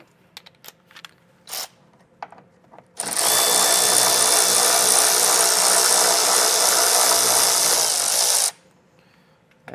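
A power tool drives out a T30 Torx screw holding the tail light on a 2024 Jeep during a trailer hitch install. Several faint clicks and handling noises come first, then a loud, steady motor whir runs for about five seconds and cuts off.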